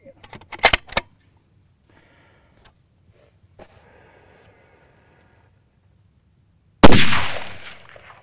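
Rifle fired from a tripod during a hunting shooting session: one loud, sharp close-range shot with a long ringing decay near the end, after earlier clicks and handling knocks.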